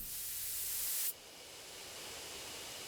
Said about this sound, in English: Take careful aim, spray the drug.